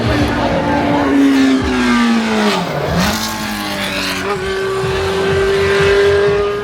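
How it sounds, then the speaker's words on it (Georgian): A Lotus Formula 1 race car at the Goodwood Festival of Speed roars loudly past. The engine note swoops in pitch as it revs and shifts, rising again after a brief dip, over steady crowd and ambient noise. "აქეთ კი ლეგენდარული Lotus-ის ბოლიდი F1-ისთვის."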